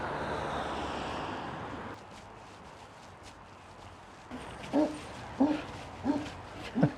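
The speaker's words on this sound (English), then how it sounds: "Very big dog startled me somewhat." A very big dog barks several times in short, loud yaps near the end, heard outdoors on a walk after quieter ambient noise and a few footsteps.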